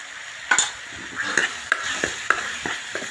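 Turmeric and coriander-cumin powder are stirred into a chickpea gravy in a pan, with a soft simmering hiss and a handful of sharp spoon scrapes and clinks at irregular intervals.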